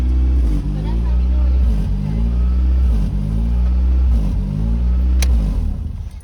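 The engine of a Honda Prelude idles high on its own with a steady, loud drone that swells and dips slightly, heard close with no throttle input and no other sounds over it.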